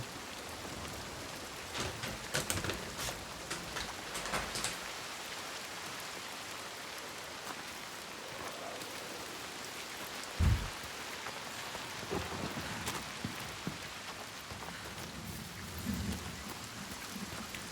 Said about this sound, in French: C'est trop bien le bruit de l'orage.